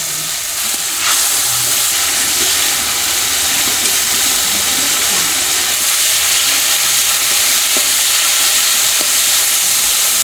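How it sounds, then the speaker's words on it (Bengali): Spice paste of cumin, ginger, garlic, green chilli, dried chilli and turmeric frying and being stirred in a pan for a fish curry: steady loud hiss and sizzle with scattered scraping clicks, no voices. "মশলা সুন্দর করে কষানো হয়ে গেছে"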